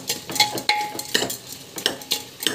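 Chili powder being sautéed in a pan for a pregnancy diet dish, heard as a run of scraping stirs and light clinks of a spoon against the pan over a soft, low sizzle, with no voices.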